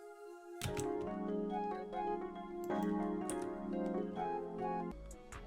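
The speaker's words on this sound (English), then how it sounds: "It's called panpipes pad in X-Band in the ethnic section," Breathy panpipes pad synth from the X-Band ethnic section in FL Studio, layered into a pluggnb beat with rhythmic percussive hits and melodic notes, steady and fairly quiet throughout.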